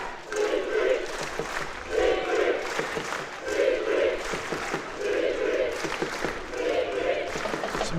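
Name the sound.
Albanian football fans' crowd noise at Euro match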